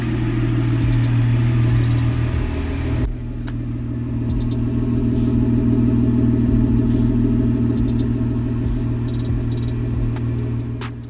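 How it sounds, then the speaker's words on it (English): Jeep Wrangler JKU idling after an early-morning cold start, a steady, close, loud low rumble that shifts slightly in tone about three seconds in and then holds even to the end, with no one talking. "Early morning cold start."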